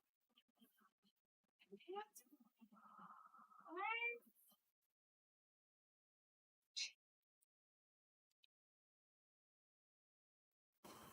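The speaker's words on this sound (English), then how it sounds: "Oh, you got a lot of meowing today," A kitten meows repeatedly in a rising, wavering series close by, mixed with soft voice-like sounds, then goes quiet apart from a few faint clicks.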